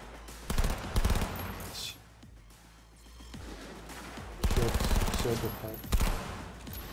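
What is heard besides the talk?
gunshots in Cyberpunk video game fight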